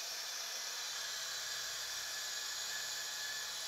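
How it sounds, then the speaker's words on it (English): A polishing machine running at low speed with a felt disc and blue polishing paste on a stainless steel weld, a steady high hiss that continues without a break and without talk. "With a machine running at low speed, apply the blue polishing paste to the felt polishing disc."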